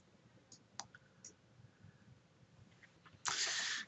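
A few faint, sharp mouse clicks early on, followed by a louder broadband burst near the end, in a quiet room during spreadsheet software work, with no talking.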